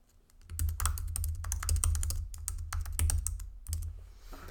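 Rapid bursts of typing on a computer keyboard, crisp close key clicks in uneven runs with brief pauses, quiet and without talk.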